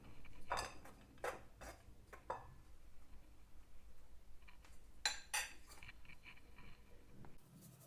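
A spoon clinks against a bowl while baking powder and baking soda are mixed into flour for a Christmas plum cake, a quiet run of sharp, irregular taps with soft scraping between them.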